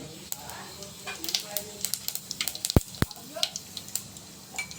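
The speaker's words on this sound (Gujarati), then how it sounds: "તો આપણે સેન્ડવિચનો મસાલો બનાવવા માટે તેલ ગરમ કરી દીધું છે. એમાં નાખીશું જીરું" Cumin seeds crackle and spit in hot oil for a sandwich masala, a string of quick, sharp sizzling pops close by with a couple of louder clacks midway, under a soft voice.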